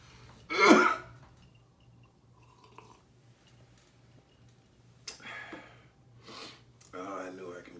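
A man clears his throat in one loud, harsh burst close by. Quieter rustles follow, then a few more throaty noises and some speech.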